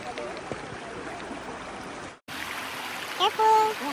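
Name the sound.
mountain stream flowing at the start of a hiking trail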